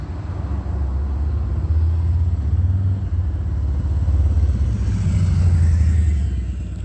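A motorcycle passes by, its low engine rumble steady and fairly loud, swelling slightly toward the end with no talking.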